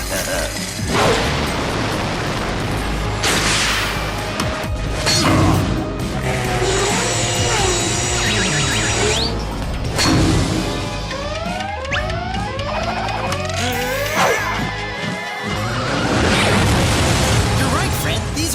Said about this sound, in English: These are the best Halloween fireworks I've ever seen.